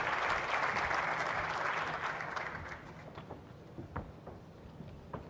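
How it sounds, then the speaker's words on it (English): A large conference audience at a business forum in Marrakech applauds in a dense, even wash that tapers off over a few seconds into scattered individual claps, with no talking over it. "You can give him a round of applause"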